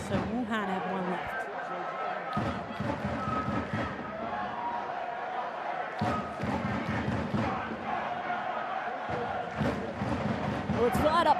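A packed stadium crowd at an AFC Women's Champions League match between Wuhan Jiangda Women's FC and Suwon FC Women roars and cheers loudly and steadily, with surges and shouts rising throughout.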